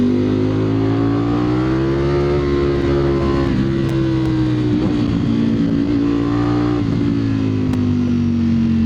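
A 2025 Ducati Streetfighter V4S motorcycle ridden on a damp, twisty country road, its engine note droning loud and steady throughout with pitch rising and falling as the throttle opens and closes, wind rushing underneath.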